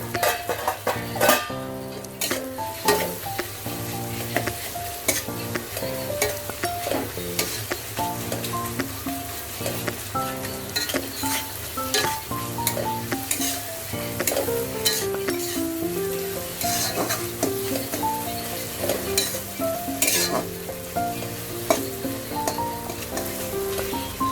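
Masala for Bengali chicken kosha sizzles steadily in oil, with continuous crackling frying noise and occasional scraping stirs running through the whole stretch.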